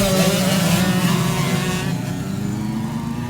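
Race motorcycles on the starting grid roar off the line together, a loud, dense wall of high-revving engines that holds steady and then eases slightly as the pack pulls away.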